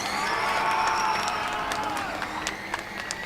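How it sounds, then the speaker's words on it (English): Crowd cheering and whooping at the autocross finish of Formula Student Germany 2024, a steady wash of distant voices with scattered shouts for about three seconds. "you can hear a big cheer from the crowd"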